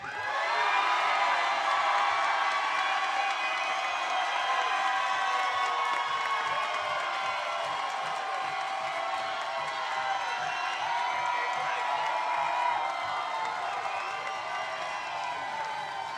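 A comedy club crowd cheers and shouts loudly and continuously at a realtor comedy show, a dense wall of whoops and voices with some clapping mixed in.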